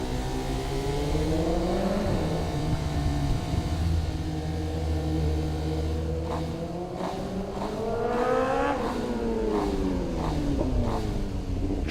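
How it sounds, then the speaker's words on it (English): A 1000cc BMW motorcycle races up the hill climb course, its engine holding a loud, steady howl with rising and falling revs as it shifts and accelerates close by, with no voices over it. "It's a powerful bike, 1000cc BMW, run by Chamara Vasala."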